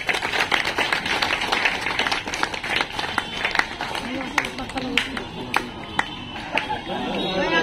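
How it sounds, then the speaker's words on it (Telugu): An audience at a comrades' public meeting claps as guests are called to the stage; scattered, uneven claps ring out near the hall, thinning out as a voice speaks over them. "గట్టిగా చప్పట్లు కొట్టాలా"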